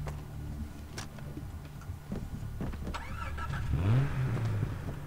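A car in the Far Cry 3 video game starts up and its engine revs and accelerates, rising in pitch over a few seconds against a background of ambient game sounds, with no talking.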